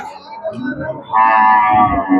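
Cattle at a cow market in Karimangalam where pregnant cows are sold, one animal giving a loud, drawn-out moo over a low murmur of market background noise.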